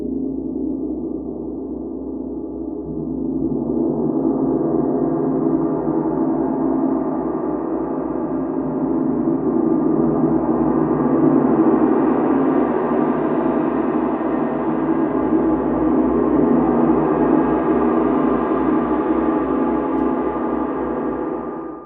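A 40-inch wind gong played with a medium Series 2 mallet swells into a dense, shimmering roar that builds and sustains loudly for over twenty seconds, with no voices.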